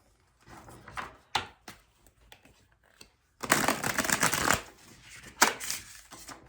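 Stiff tarot cards shuffled by hand in two bursts, a few short riffling flicks early on, then a longer, louder dense riffle with a final snap.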